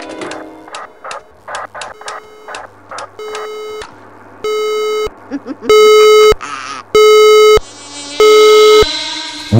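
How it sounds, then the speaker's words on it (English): A fire alarm system sounds its warning: loud repeating electronic tones and pulsed beeps that build into long sustained blasts, with a recorded voice announcement over parts of it. "Warning, the fire alarm system has operated."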